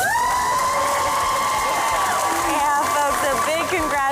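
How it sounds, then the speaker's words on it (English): A high school crowd cheers and applauds at a celebration, loud whoops and shouting voices swelling together close by, with sustained high-pitched yells over the clapping. "Huge round of applause for your very own Thailand Night."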